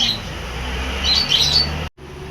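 Small birds chirping, with bright high tweets in brief clusters over a low steady background rumble, cut off by a short silence near the end.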